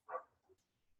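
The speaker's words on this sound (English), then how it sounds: "my neighbor's dog is going nuts right now" A neighbor's dog barks in one loud, close burst, followed by a couple of fainter yips or grumbles trailing off over the next second.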